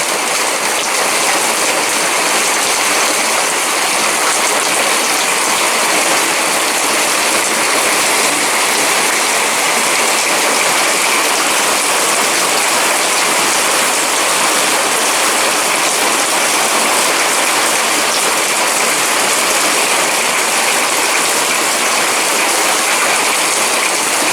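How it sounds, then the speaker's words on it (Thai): Heavy rain pours steadily and loudly for the whole stretch, a dense unbroken hiss of water striking surfaces with no voices. "เป็นฝนกำลังตกนะครับ"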